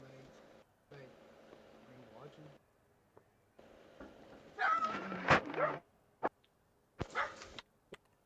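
A puppy barks and whimpers in short yips and whines, loud bursts arriving near the end, over a background of talk and game sounds.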